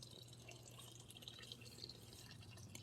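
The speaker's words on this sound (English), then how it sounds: "my pond, I love the sound of the water" Water trickles softly in a garden pond, a faint, steady burble with small drips scattered through it.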